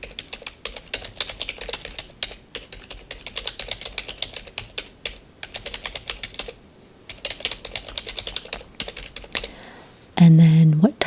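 Rapid, close typing on a computer keyboard clatters in steady bursts with short pauses, softly in a quiet room, before a voice speaks briefly at the end.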